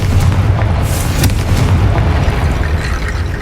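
Confringo blasting spell in the Hogwarts Legacy video game, a dense run of booming blasts and bursts that keep going without a break, loud and close.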